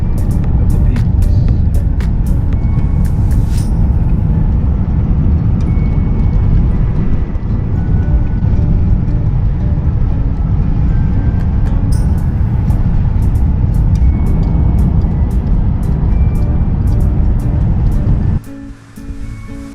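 Escape campervan driving up Route 180 East through the Sierra Nevada mountains toward Kings Canyon, with a loud, steady broadband road and engine rumble throughout, and a few sharp ticks, until it drops away near the end.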